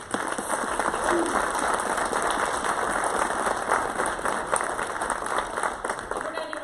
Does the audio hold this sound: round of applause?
yes